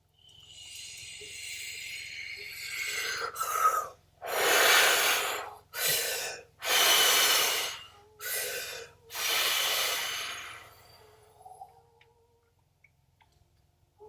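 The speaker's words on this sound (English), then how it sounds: "breathe 3 fast, heavy breaths and let the ball go." Three to five fast, heavy breaths in close succession during a guided breathing meditation, each loud, broad, rushing and separated by short gaps, followed by quiet near-silence. Alone, with no talk over them.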